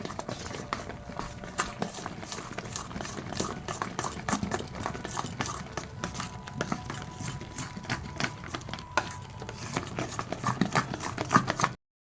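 Asafoetida and whole spices crackling in hot oil while making dahi vada: a steady, dense sizzle with many tiny pops and spits, close and fairly quiet, lasting throughout and stopping abruptly at the end.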